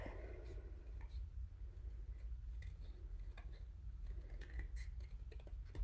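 Scissors snipping through paper to cut out a tessellation stencil shape, giving a series of short, close, faint cuts over a low steady background hum.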